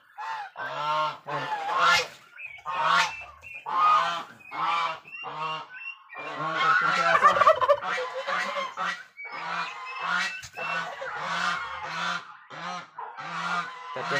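Two-month-old turkey poults being released into a ranging area, a loud, close flock calling in repeated honking, squawking bursts with brief gaps, continuous throughout.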